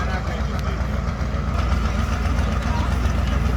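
A Ford Powerstroke diesel truck engine idles with a steady low rumble, close and continuous, while voices murmur in the background at a truck pull event.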